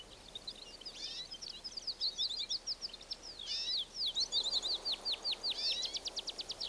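Canaries calling among sow thistles on the Canary Islands in spring: bright, rapid chirps and trilled song phrases repeating close by, with a fast rattling trill near the end, over a soft outdoor hiss.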